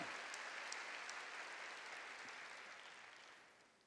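A church congregation applauds during a worship service, a dense wash of clapping that holds steady and then gradually fades toward the end.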